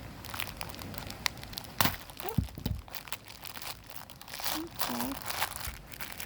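Crinkling and tearing of plastic packaging as a string art kit with board, pre-drilled holes and nails is opened, a busy run of rustles and crunches under a brief spoken word.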